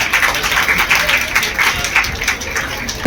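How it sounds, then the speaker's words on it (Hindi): Students break into loud applause for Simran, a dense, continuous clatter of many hands clapping close by, with faint crowd noise underneath. "एक बार जोरदार ताली हो जाए सिमरन के लिए।"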